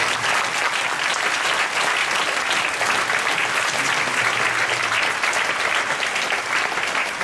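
A church congregation applauds during a Friday night worship service, a dense, steady wash of clapping that holds at full strength for about seven seconds with no talk over it.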